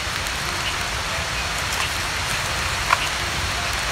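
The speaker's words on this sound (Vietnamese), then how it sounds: "Mới có 4 giờ mà mưa rồi" Steady rain falls at night around a campfire in a forest survival camp, a dense, even hiss holding at the same level throughout, with one brief sharp tap near the end.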